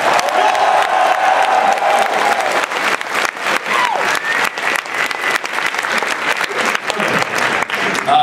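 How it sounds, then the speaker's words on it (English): Loud, sustained applause and cheering from a convention crowd at a MAGFest Q&A panel for Pro Jared, dense clapping with whoops and shouts running throughout. "I need a loud applause for Pro Jared!"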